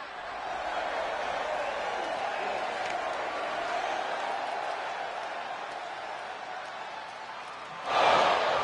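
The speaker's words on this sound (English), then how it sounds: "this crowd is buzzing over that" Arena crowd from the WWE 2K25 video game, women's universe mode, buzzing with a steady, continuous murmur of many voices, rising into a louder swell of cheering near the end.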